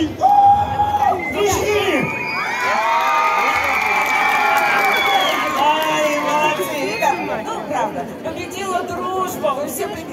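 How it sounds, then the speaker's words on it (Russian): A crowd at a circus-style live event cheers and shouts, with children's voices and excited chatter rising in a sustained, loud roar; scattered clapping is mixed in and tapers toward the end. "Именно такими аплодисментами мы будем встречать каждый номер."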